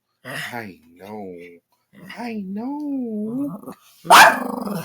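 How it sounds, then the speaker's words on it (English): A dog barks sharply near the end, after stretches of whining, growly vocalizing from the same animal; loud and close. "I swear she barks at like everything"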